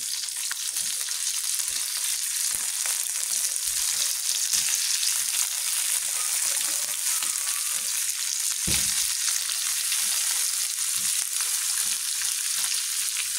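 Basa fish sizzling and frying in a pot with aromatic onions, a steady loud hiss running throughout, with a brief thump partway through as something shifts in the pot.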